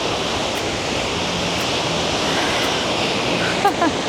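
A small but powerful waterfall in Waterton roars as a constant dense rush of falling water, close and loud, with a faint voice briefly near the end.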